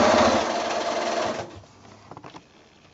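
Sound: sewing machine stitching a Balkan Puzzle quilt block

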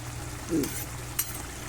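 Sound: stirring frying potato curry in a pan with a spoon

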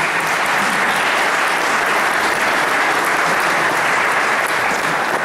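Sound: applause for a guest speaker

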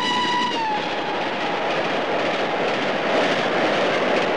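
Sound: postal special train passing by

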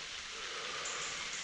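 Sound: rain starting to fall in a forest

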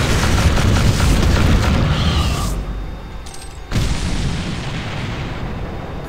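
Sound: weapon fire and explosions in the video game Doom

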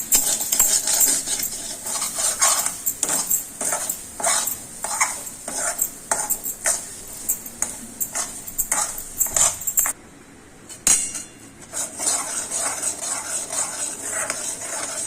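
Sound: stirring milk basundi in a kadai

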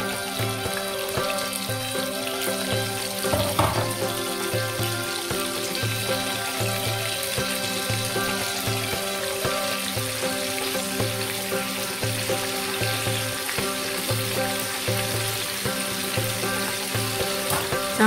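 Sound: tempeh frying in hot oil

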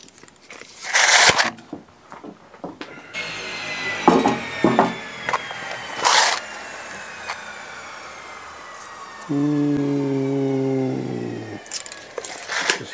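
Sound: cutting a styrofoam board to length

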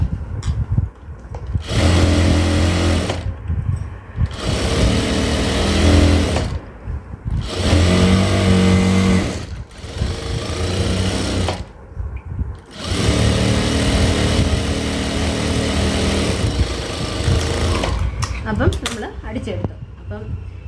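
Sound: sewing machine stitching fabric

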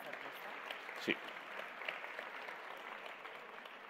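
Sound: audience applause for the infographic artist

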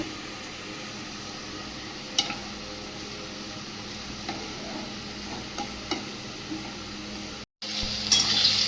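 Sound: vegetables frying in light oil

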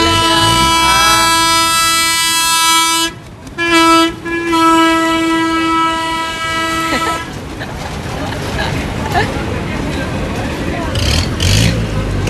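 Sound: train arriving at station

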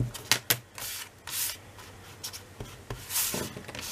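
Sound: erasing eraser marks on a paper page

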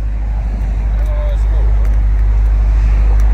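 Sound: Dodge Charger SRT widebody Scat Pack car engine running

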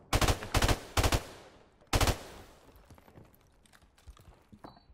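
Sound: gunfire from a first-person shooter video game

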